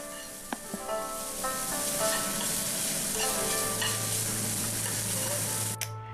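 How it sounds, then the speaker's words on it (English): Scallion greens are tossed and frying in a hot pan, giving a loud, steady sizzle with a few light scraping clinks early on and a sharp knock near the end. "add in the green portion of the scallion and toss it for a little bit more"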